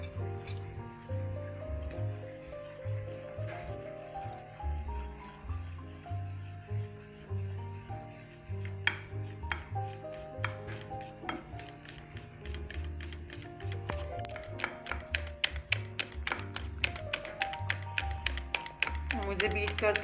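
Rapid, uneven tapping and clicking of a whisk or beater working a chilled mixture of condensed milk and milk in a bowl for orange ice cream, close and fairly quiet, with music playing underneath throughout.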